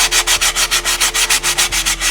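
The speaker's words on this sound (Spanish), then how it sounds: "Y ahora vamos con una lija de grano fino o de grano medio, según veáis, a lijar para levantar nuestra pintura." Fine-grain sandpaper scrubbed over painted wood, with about a dozen brisk, evenly spaced rasping strokes that are loud and close, with no voices.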